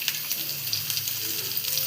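Onions sizzling in lightly heated oil for egg biryani, a steady broadband frying hiss held close and even throughout with no talk over it.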